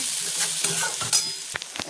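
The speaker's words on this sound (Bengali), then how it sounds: "লাউয়ের খোসা ভাজা করতে করতে" Bottle gourd peel fries in a pan with a steady close sizzle, broken by stirring scrapes and a few sharp crackles toward the end; no one speaks.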